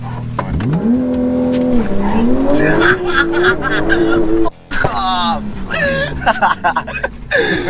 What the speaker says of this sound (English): took him passenger to experience the sheer acceleration of my 992 Turbo S